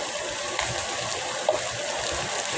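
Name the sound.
rainwater flooding and pouring down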